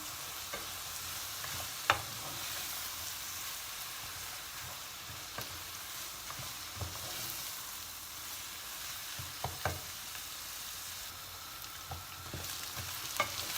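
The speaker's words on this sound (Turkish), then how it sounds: "Süzdüğüm pirinçlerimi içine döküp şimdi biraz kavuracağım." Drained rice being sautéed with softened onions in a pan for stuffed peppers in olive oil, a continuous soft sizzle with occasional stirring scrapes and clicks, close and quiet, without talk.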